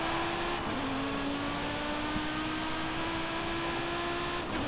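A 1986 Audi Sport Quattro S1 engine in Forza Horizon 5 holds a steady, high-pitched drone at near-constant revs, loud and unbroken against a dense noisy wash, with no talk.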